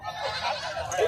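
At a livestock market, a goat gives a short, close bleat with a wavering, quavering tone amid background talk.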